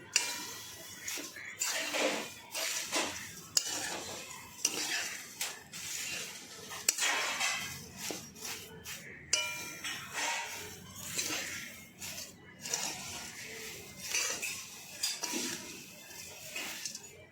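Poha stirred with a spoon in a pan, giving soft repeated scraping and light clinking taps at an irregular rhythm, close but quiet.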